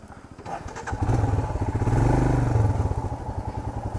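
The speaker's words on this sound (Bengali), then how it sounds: "এটাই এটিভি বাইক আছে।" A small ATV's engine runs steadily close by on a road in Bijanbari, Darjeeling, its revs climbing into a louder, sustained drone mid-clip before easing back to a rougher idle-like putter.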